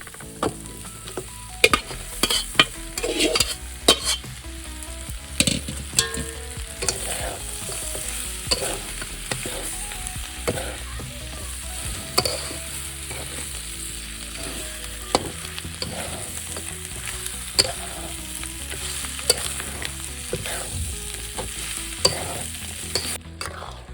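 Mutton pieces tossed into cooked masala in a home kitchen, sizzling and frying steadily with repeated scraping and clinking stirs of a spoon against the pan throughout, close and fairly loud, with no talking.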